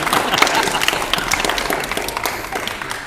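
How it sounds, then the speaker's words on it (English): Studio audience at an antiques quiz gameshow breaks into a short burst of applause, dense clapping that holds steady for about three seconds and slowly thins. "Give her a round of applause."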